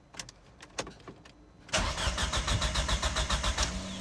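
An Audi A4 B6 quattro with manual swap, engine cranked through jumpered relay wiring with coils unplugged, so it turns over without firing: a few clicks, then steady loud rhythmic starter cranking close by, no talking.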